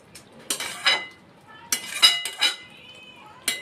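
A spoon stirs shahi chicken korma in a metal pan, giving several sharp clinks and scrapes against the sides in short bursts with quiet gaps between them.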